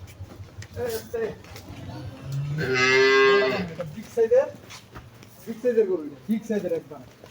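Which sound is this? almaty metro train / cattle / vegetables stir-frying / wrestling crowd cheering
cattle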